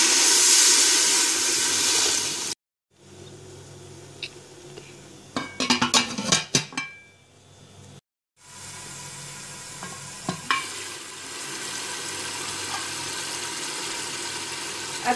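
Mutton chops curry simmering in a pot with water gives a soft steady sizzle and hiss, broken by brief silences and a burst of clattering stirring near the middle.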